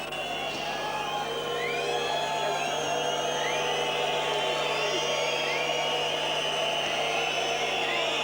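A wrestling arena crowd at the 1997 World Championships in Wroclaw reacting to a referee's score, a steady roar and whistling murmur from many spectators filling the hall without pause.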